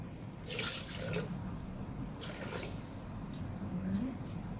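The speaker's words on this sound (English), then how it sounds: "add in 250 grams of water" Water splashes and gurgles as it is poured into a Thermomix bowl in short bursts, with faint sizzling underneath from frying chili crab sauce.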